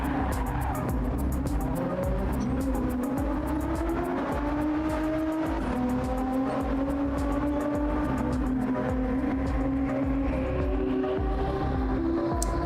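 A race car in a racing video game at an expo qualifier runs a lap, its engine droning steadily with rising and falling pitch through gear shifts and corners, constant and loud throughout.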